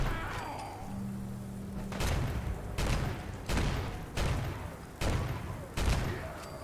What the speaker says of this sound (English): this gun is designed as a fully automatic explosive explosive weapon now. Because I use high explosive rounds.